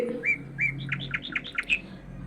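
A sparrow chirps anxiously in a quick series of about a dozen bright, short tweets that speed up into a tight, urgent run. The calls are close and clear, with no other sound around them.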